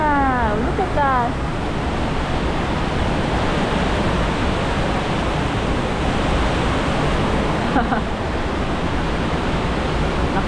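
Sayahan Waterfalls in Ormoc City roars as a loud, constant broadband rush of falling water, with voices briefly heard over it near the start and again later.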